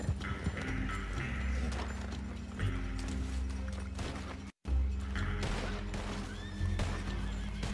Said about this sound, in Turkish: Tamam, atı çağırdım ben.